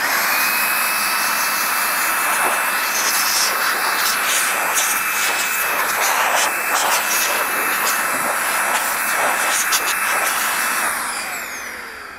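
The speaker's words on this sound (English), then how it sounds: "This Makita blower truly takes the place of a small air compressor to blow out things on the job site." A Makita 40V XGT GSA01 cordless dust blower runs at full power with a loud, steady, high-pitched whooshing roar. It holds constant for about eleven seconds, then winds down at the end.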